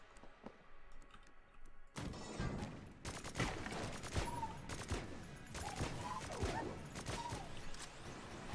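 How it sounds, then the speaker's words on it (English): Strafe gun in Enter the Gungeon firing in rapid, dense bursts of clicky shots, a continuous crackling fusillade of game gunfire that runs almost unbroken once it starts, with no talk over it. "Strafe gun seems sick."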